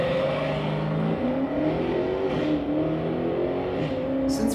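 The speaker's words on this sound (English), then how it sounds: "Since when do American V8s have transmissions like that?" American V8 car engine in a car-sound guessing game revs loudly with rising pitch, briefly dipping at shifts before climbing again. It is heard alone and steady, without talk.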